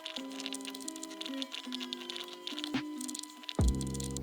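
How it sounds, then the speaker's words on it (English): Quick keystrokes patter on a computer keyboard in a soft, rapid run of light ticks, heard close but quiet beneath steady background music. "I'll type it out quickly."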